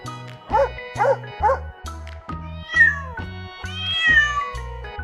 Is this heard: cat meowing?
yes